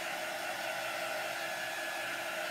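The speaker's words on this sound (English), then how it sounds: "So if you are using a dryer on your transfers, just be super careful not to heat up your transfer itself" A hair dryer blows hot air onto a craft transfer on a decorative gift box, a steady, loud, unbroken whoosh with no change in pitch throughout.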